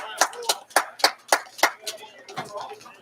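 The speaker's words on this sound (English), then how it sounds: "Some applause and some claps for Bates, who played very well" A few sharp hand claps in a quick, steady run for a player at a college baseball game between DSU and Coppin State, fading into a murmur of voices.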